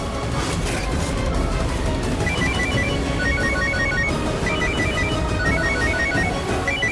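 An electronic ringtone sounds from a phone during an outgoing call. It repeats in short patterned bursts under a dense, loud background of music and noise.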